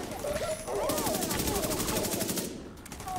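A deployed turret in a video game fires a rapid, steady stream of shots, a close, loud mechanical rattle lasting about two seconds before cutting off.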